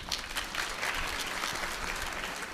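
Faint applause from an audience at a Hindi religious discourse, a continuous patter of many hands clapping at a distance with no clear voices over it.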